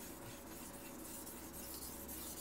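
A knife edge is worked on a Shapton Pro whetstone, giving a faint, steady scraping rasp of steel on stone in repeated light strokes, close and quiet with no talking.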